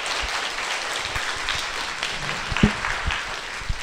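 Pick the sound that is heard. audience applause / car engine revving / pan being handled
audience applause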